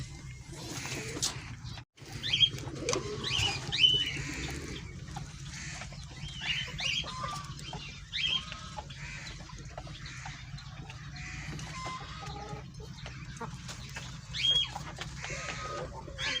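Hens drink and cluck softly in a flock, low murmuring calls and occasional louder squawks over steady background noise at a moderate distance.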